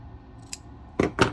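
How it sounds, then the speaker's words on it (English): Scissors trim the small fabric corners of a quilt block, giving three quick, close snips, the last two louder and near together, with no talking. "I'm just going to trim these little cornery bits."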